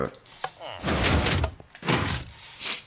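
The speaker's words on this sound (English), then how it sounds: "And we open the door" A wooden door swinging open in the Minecraft video game, inside a redstone-built hotel, heard as a few short thunks and creaks alongside someone talking.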